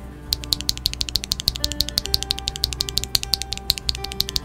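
A lubed Holy Tom switch stem fitted in an Otemo housing is pressed repeatedly, giving a steady series of crisp, close keyboard taps at an even pace.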